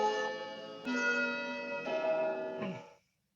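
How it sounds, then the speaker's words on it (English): Blood on the Clocktower game bell bongs, repeated tonal strikes with long ringing harmonics, several overlapping chimes moderately loud, then cutting to silence. "The bell bongs are back."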